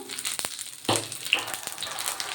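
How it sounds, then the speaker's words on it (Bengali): Prawns wrapped in gourd leaves with poppy-seed paste sizzle in hot oil, two pieces lowered in at a time; a steady crackling fry with a sharp burst as one drops in, close and moderately loud, no talking. "তেলের মধ্যে ছেড়ে দেবো।"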